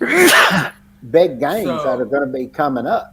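One loud, close sneeze bursts out at the start, followed by someone talking in a studio conversation.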